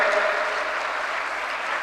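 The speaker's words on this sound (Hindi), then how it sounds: "तालियां बजती रहे" An audience applauds prize winners at a student congregation's valedictory session, a dense, steady burst of many hands clapping throughout.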